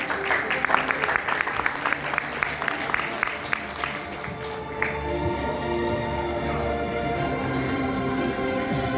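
Audience at a school graduation ceremony in Turkey applauding as a physical education teacher is welcomed to the stage; dense clapping over the first half, fading into a hall with murmuring voices.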